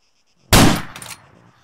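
A single sharp sniper rifle gunshot rings out in Arma 3 combat after a brief silence, a loud crack with a short decaying tail that fades over about half a second.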